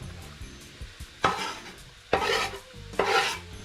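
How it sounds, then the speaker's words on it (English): Leeks and butter stirred hard in a cooking pan for a smoked marlin fish pie, three distinct scraping sweeps against a low background sizzle. "Give that a stir"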